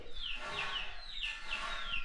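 Chickens at a rural house in Africa make faint, repeated high peeping calls, several short descending notes in a loose rhythm over quiet background noise.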